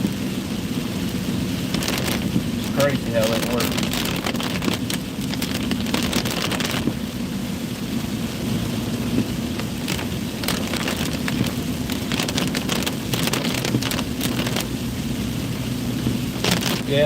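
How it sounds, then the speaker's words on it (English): Steady rain falls throughout, a continuous close hiss of drops with some wind noise, while a voice briefly speaks over it. "It's raining."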